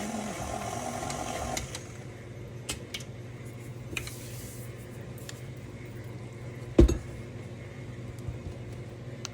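A stand mixer with a paddle attachment churns red velvet cake batter in a kitchen, a quiet steady motor hum that stops partway through, followed by faint scraping and a sharp clunk against the bowl.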